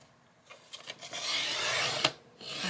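A cutting tool trims a piece of chipboard for a mini album, giving scratchy rasping strokes that build into a steady grating run, one sharp snap near the end, close and alone.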